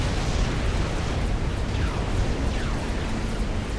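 In a Supreme Commander: Forged Alliance Forever 3v3 naval battle, a battleship's huge alpha strike salvo hits a destroyer, giving a steady wash of booming explosions and blasts with no break for nearly four seconds.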